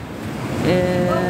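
Surf washes steadily onto a beach at a seaside spot in Egypt, heard close, with wind buffeting the microphone and a faint tonal hum over it.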